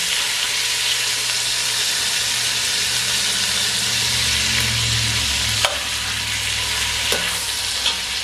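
Rabbit pieces fry steadily in hot grease over medium heat, a dense continuous sizzle and crackle close by with a few sharp pops near the end, and no talking.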